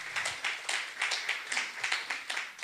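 An audience applauds for a pastor at a lecture gathering, with soft rhythmic clapping from a small crowd, fairly quiet and steady throughout.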